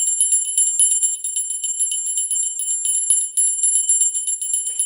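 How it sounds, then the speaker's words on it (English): A small bell rung repeatedly in a spiritual card-reading session, bright sustained high metallic tones with a quick shimmering pulse, close and loud, with no talking. "we're going to go ahead and ring the bell and call on our angels"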